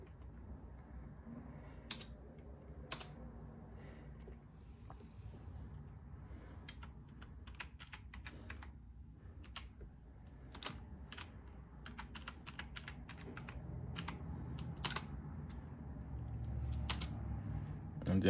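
Keys clatter on a Lenovo T420 laptop keyboard as a BIOS password is typed in, close sharp clicks in irregular bursts and single taps over a low fan hum, with a voice faintly in the background.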